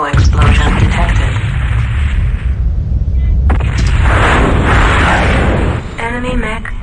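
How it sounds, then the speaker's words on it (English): An internal ammo explosion rumbles through the MechWarrior 2 video game, a loud continuous roar of blasts and crackling bursts filling the whole stretch, with a synthetic voice announcing over it. "Critical hit weapon destroyed. Internal ammo explosion detected."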